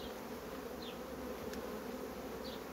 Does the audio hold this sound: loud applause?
no